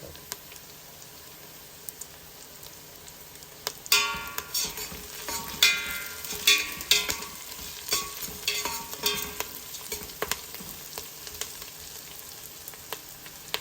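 Mint and ginger-garlic paste frying in a pan for kichidi at an old-city Hyderabad breakfast stall, a steady close sizzle that swells with bursts of crackle and stirring scrapes, with no talk.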